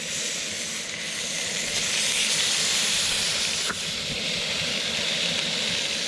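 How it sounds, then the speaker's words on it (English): Trout fillets sizzling in butter in a pan on the ice: a loud, continuous close hiss that holds steady throughout with a single faint tap partway through, no talk. "we'll just throw those fillets right on there"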